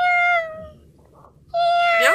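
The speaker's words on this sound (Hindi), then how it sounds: "म्याँ की आवाज होती है" Two drawn-out cat meows in an animated children's play, the first clear and falling, then a pause, then a louder, brighter second meow, close and unaccompanied by talk.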